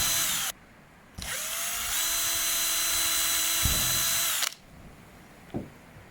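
A power drill with a 4.5mm bit whines loudly in two bursts while drilling holes, a short one and then a longer steady run of about three seconds, with a brief pause between.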